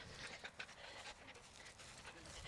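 A 16-year-old Australian Shepherd pants faintly with quick rhythmic breaths and a couple of small whimpers, close by against a quiet, noisy background.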